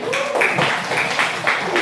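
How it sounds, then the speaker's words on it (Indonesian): Students clapping together in a classroom, a brief burst of fairly loud applause with the claps landing in a loose, regular rhythm. "Tepuk tangan dulu dong"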